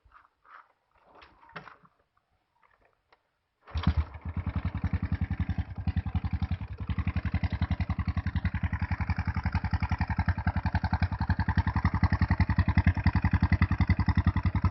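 A few quiet clicks and rattles, then a Honda Wave 125i motorcycle with a stock exhaust fires up and settles into a steady, loud, throbbing idle close by.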